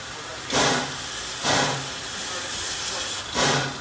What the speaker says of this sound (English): green engine is fired up.